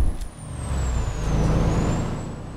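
Air brake on a truck in American Truck Simulator lets out a loud sustained hiss over a steady low engine rumble, with no talking.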